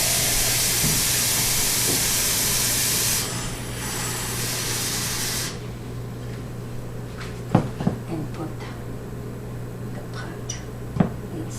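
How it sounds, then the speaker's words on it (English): Water pouring into an orchid pot, a loud steady hissing rush for several seconds that cuts off, followed by quieter trickling and a few soft knocks and clicks. "So now we will fill this pot with water."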